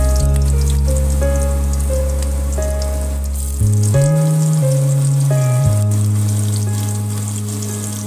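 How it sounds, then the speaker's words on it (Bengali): Potatoes fry in hot oil in a pan for a fish-with-potato-and-pointed-gourd dish, giving a steady, loud sizzle that carries on without a break, with no voices over it. "এবার ওই তেলেই আমি আলুগুলো দিয়ে ভালো করে ভেজে নেব।"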